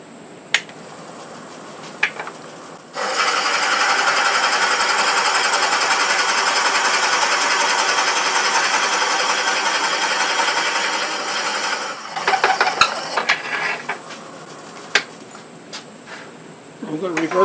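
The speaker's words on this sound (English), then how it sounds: "I'm going to drop down to a 1 7/8 inch Forstner bit and bore in about halfway." A 1 7/8 inch Forstner bit bores halfway into wood for a button-style Christmas ornament, a steady loud whirring drill run of about nine seconds between quieter clicks and handling noises.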